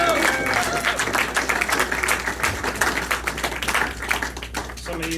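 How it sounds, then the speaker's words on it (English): Steady applause from an audience at a live set at Howdy in Kansas City, Missouri: a thick wash of clapping with some crowd voices mixed in, tapering slightly near the end. "verybody give our door person tonight, Link, a round of applause as well."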